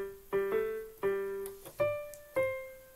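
Keyboard playing a simple part: four separate sustained chords or notes struck one after another at a moderate, even pace, each decaying before the next, with no voices.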